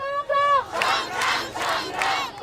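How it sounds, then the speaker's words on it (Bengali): A crowd of protesting polytechnic students chants slogans in unison on a road, loud and close, with rhythmic shouted bursts repeating across a couple of seconds. "সড়কে অবস্থান নিয়ে দাবি আদায়ে দিতে থাকেন স্লোগান।"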